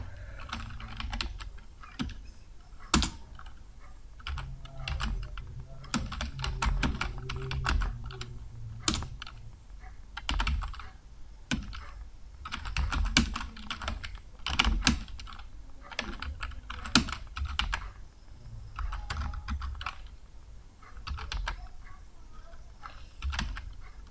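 Typing on a computer keyboard while writing in Microsoft Word: irregular bursts of close, clicky keystrokes with brief pauses, steady over a quiet room background and without talk.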